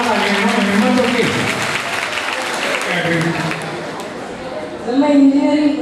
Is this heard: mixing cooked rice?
no